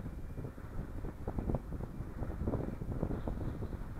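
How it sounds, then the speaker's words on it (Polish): A soft, steady whooshing rush of wind turbine blades, fairly quiet and continuous, with gentle rhythmic swells and no voices. "A ze śmigieł wiatraku to słyszę delikatny szum."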